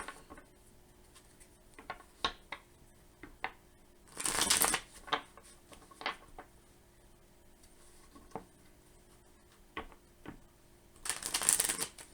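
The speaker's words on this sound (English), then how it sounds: "Two cards flipped out of the deck right away." A tarot deck riffles in two loud shuffling bursts, with scattered light taps and card flicks between them as cards flip out, close and quiet otherwise, with no voices.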